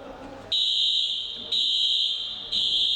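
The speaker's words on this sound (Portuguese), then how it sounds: "alguém brincando com alarme de incêndio disparou o alarme e a dificuldade agora é desligá-lo" Fire alarm set off as a prank, sounding in steady, loud electronic bursts that restart about once a second, ringing alone with no talk over it.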